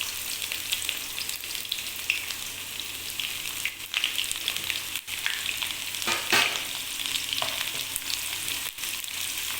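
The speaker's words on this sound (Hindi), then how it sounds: "ऑयल गर्म हो गया, अब हम इसमें प्याज डालेंगे।" Onions frying in hot oil for aloo kofta curry, a continuous crackling sizzle with occasional louder spatters and a few stirring scrapes, close and steady throughout.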